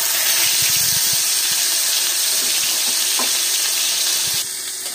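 Hot oil sizzles in a loud, steady hiss as koi fish fries in a pan, with a few soft clinks and scrapes.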